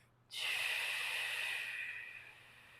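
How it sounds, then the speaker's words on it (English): A long, steady breath out through the mouth during slow breathing for stretching and active recovery, a soft airy hiss that starts abruptly, holds, then fades over about two seconds. "slow and silent in through the nose. Very long exhale out through the mouth."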